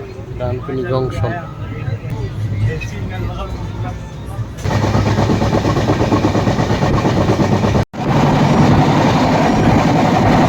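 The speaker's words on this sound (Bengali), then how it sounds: "একের পর এক জানা অজানা স্টেশন পার করে এগিয়ে চলেছে আমাদের ট্রেন দুরন্ত গতিতে।" A train on the Kolkata to Darjeeling journey rumbles along at speed, a loud continuous roar taking over after a quieter stretch with voices and other sounds, broken by one brief dropout.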